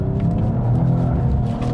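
An Alpina B4 GT, the BMW M4 Gran Coupe-based car, accelerating out of a corner, a steady loud engine drone heard from inside, brief and continuous.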